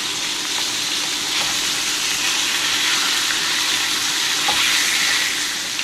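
Wild hog meat sears in a hot pan, giving a continuous, fairly loud sizzle with a crackling hiss that holds steady for several seconds without pause, and no voices come through.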